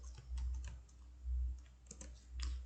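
Keys clatter on a computer keyboard in short, quick bursts of typing separated by brief pauses, close and fairly quiet, with no one speaking.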